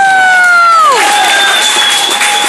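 Loud, continuous crowd applause and cheering at a ring after a knockout win in a fight bout in the over-100-kilogram category, with sustained tones sliding downward over the clapping.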